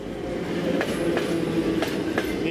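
Commuter train from Moscow running past the Verbilki platform, a loud, steady rumble with rhythmic wheel clatter and rail noise close by, with no talking.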